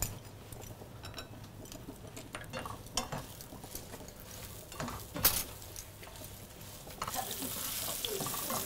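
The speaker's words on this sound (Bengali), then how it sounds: "এই যে বেগুনটা ভাজা হচ্ছে" Eggplant fries in oil in a pan for a vegetarian dish, giving a faint, steady sizzle with scattered scrapes and a few utensil clinks, and the hiss grows louder near the end, with some indistinct background voices.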